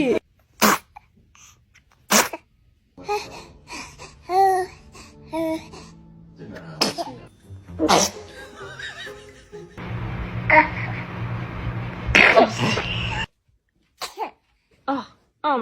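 A baby sneezes several times, sharp little bursts scattered among laughter and adults talking and cooing close by.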